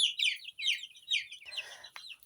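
A young rooster makes a quick run of high, chirpy clucks in short bursts, up close, followed by a brief scratchy rustle.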